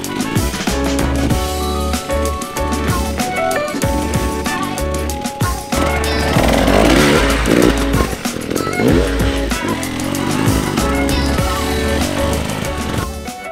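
A hard enduro motorcycle engine works close up on a slope, with the clutch feathered. The revs rise and fall unevenly with sharp bursts over a steady loud roar.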